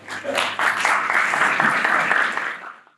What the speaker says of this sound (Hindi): मैं चाहूंगा कि एक बार आप अंशुमान जी के लिए एक जबरदस्त तालियां बजा लीजिए